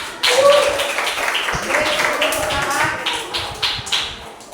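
Pupils in a coding and artificial intelligence classroom clap their hands together in a lively, closely spaced burst while voices chatter over it.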